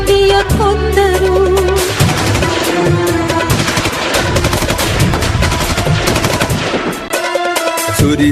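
Rapid gunfire bursts for a staged Jallianwala Bagh massacre scene at a stadium event crackle loudly over a dramatic musical backing with low drones and tonal swells. The rattle runs almost continuously before a brief drop near the end.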